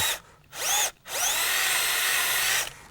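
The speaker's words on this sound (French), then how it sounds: "nous allons réaliser dans un premier temps un trou dans l'arbre à l'aide d'une perceuse" A power drill bores into the trunk of a poplar tree in two short bursts and then one long sustained whine, close and loud, with no speech.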